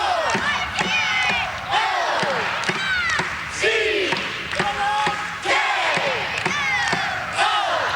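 A college cheerleading squad at the 2009 national championships performs a traditional Slippery Rock cheer, with rhythmic shouted chants and loud crowd noise filling the arena throughout.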